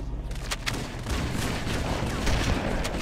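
Heavy close-range weapon fire in the Library level of Halo, a dense run of loud blasts and crackling shots filling the whole short moment with no pause.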